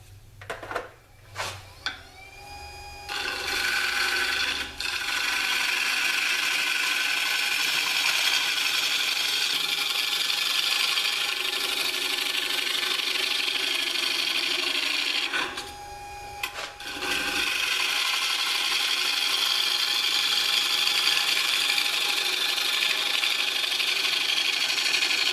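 A small wood lathe cuts with a freshly sharpened chisel, a loud continuous scraping, rasping whir that runs steadily, breaks off briefly midway, then resumes just as strongly.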